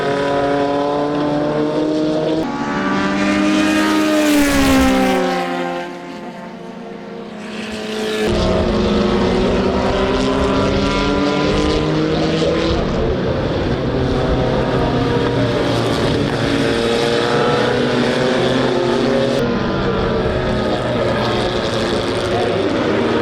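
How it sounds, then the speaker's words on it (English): A March 7-2 racing car engine revs hard and climbs through the gears over a hill on a long straight at a raceway, with a loud rising whine and shifts, briefly fading before a close, sustained roar. "That beautiful sound of that March car just ripping through the gears up and over the hill on the long straight"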